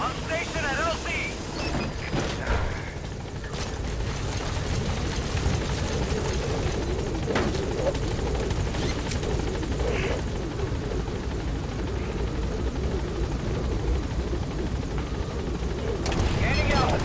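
A helicopter arrives at a landing zone in the video game Metal Gear Solid V, its rotor drone heavy and constant throughout, with game radio chatter and a player's voice talking over it.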